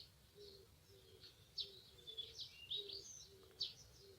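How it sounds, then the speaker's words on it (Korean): Birds chirp and tweet in the Korean countryside, short bright calls repeating irregularly at a moderate distance, with a soft low cooing underneath and quiet ambience, no talk. "여러분 새소리 들리시나요?"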